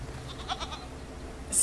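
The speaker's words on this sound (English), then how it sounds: "A snooty goat bleats empathetically at you." A goat bleats in the fantasy game Titan Quest 2, a short quavering cry repeated a few times early on, fairly quiet against a low background hum.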